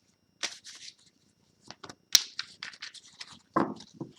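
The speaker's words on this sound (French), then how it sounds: "On va mélanger déjà le tarot traditionnel" A traditional tarot deck is shuffled by hand, heard as close, crisp bursts of riffling and slapping card noise separated by short pauses, with no talking.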